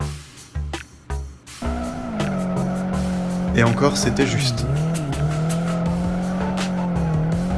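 A car drifts with its tires squealing in a long, wavering screech over a strained engine note, close and loud, while someone speaks in French over it.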